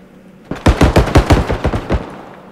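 Rapid pistol fire in the realistic shooter game BodyCam, about ten loud sharp shots in quick uneven succession, close and alone, with a short tail of reverb after the last round.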